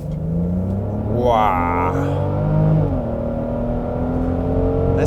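A 2022 Genesis GV70 SUV accelerating in sport mode, its engine rising in a steady whir and rumble from inside the cabin as the revs climb, while a person talks over it.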